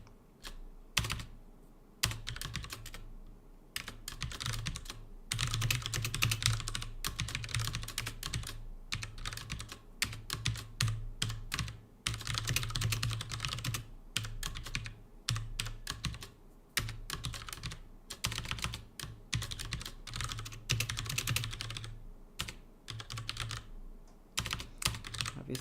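Rapid, uneven typing on a computer keyboard, close and clear, with dense bursts of key clicks broken by short pauses throughout, no voices.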